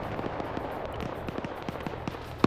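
Artillery barrage explosions in a military video game, heard as a steady string of sharp, fairly distant booms and cracks at irregular intervals, with one louder hit at the very end.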